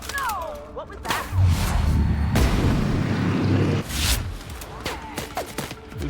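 Gunfire bursts in The Outer Worlds video game, a dense rumbling volley of shots and booms running for several seconds with mechanical clatter, alongside a player's voice.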